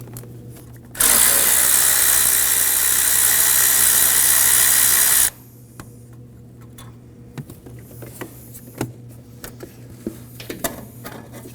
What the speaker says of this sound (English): We can go ahead and remove the 10mm bolt towards the front of the heat shield.